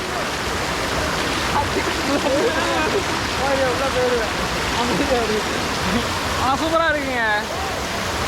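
Rushing water pours loudly and continuously at the Kovai Kutralam waterfall, a dense close roar of falling water, with someone talking over it and other voices calling out now and then.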